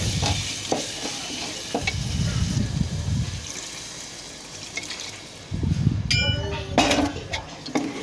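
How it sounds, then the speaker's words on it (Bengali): Spices with chili and turmeric frying in a pan, a close sizzle with bursts of stirring scrapes, a few metallic clinks of a utensil on the pan near the end. "ভাজার পর মরিচ মশলা হলুদ সবগুলো মশলা দেওয়ার পর একটু কষিয়ে নিব।"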